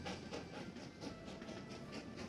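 A train dispatched in a video game, rolling with a steady rhythmic clickety-clack and a faint hiss, continuous and fairly even for the whole stretch, with no talking.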